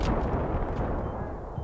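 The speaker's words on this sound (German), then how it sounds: "Diese Explosion hat mich etwas irritiert," An explosion in the video game Battlefield 3, a deep heavy boom at the start that rumbles and decays over a second or so, loud and close with no talk over it.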